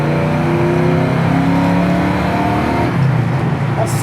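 The engine of a 1970 Mercury Cougar XR7 pulls steadily under acceleration while driving, a loud continuous throaty drone heard from inside the car with no talking.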